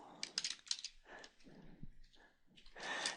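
Typing on a computer keyboard while a WordPress post is written, quiet irregular bursts of key clicks in short clusters with brief pauses, close up and faint.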